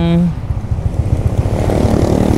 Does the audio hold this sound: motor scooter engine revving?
yes